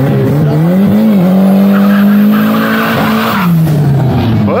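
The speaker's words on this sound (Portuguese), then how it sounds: "Opalão mandando ver no burnout." A six-cylinder Chevrolet Opala with dual Weber carburetors does a burnout at a street-car challenge event, its engine roaring loud and steady with continuous tire squeal for the full length, rising then easing near the end.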